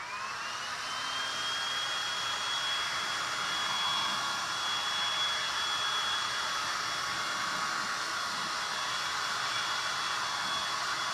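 Hair dryer blowing steadily on fresh Dixie Belle paint on a thrifted wooden box, a loud continuous broadband whoosh with a high motor whine that holds unchanged throughout.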